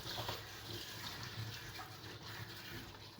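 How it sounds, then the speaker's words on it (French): Fresh vegetables are rinsed under steadily running water, which makes a continuous close splashing gush throughout with no talking. "Je rince bien, je continue."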